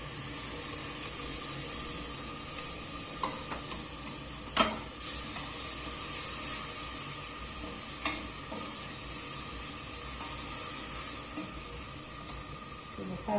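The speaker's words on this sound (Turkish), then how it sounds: "şöyle kavrulmakta olan soğanın içerisine şöyle salçamı aktarıyorum" Tomato paste goes into onions frying in a pan, bringing a steady close sizzle and hiss, with a few stirring clinks and scrapes of a utensil against the pan.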